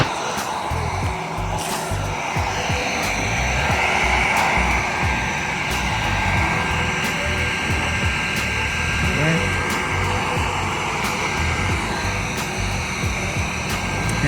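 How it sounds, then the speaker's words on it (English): Heat gun blowing steadily while vinyl wrap is warmed on the corners of a BMW M8 Competition, a continuous loud airy whine and hum throughout with faint handling noises and someone speaking over it. "grab the heat gun, start on the corners, massage the corners in first"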